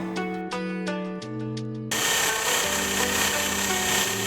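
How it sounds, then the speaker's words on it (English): Small drill-driven polisher buffing a car headlight lens, a steady close whirring grind that runs continuously and grows rougher and louder partway through, with tonal motor hum underneath. "I'll probably gonna carry on trying to polish it out with this little polisher"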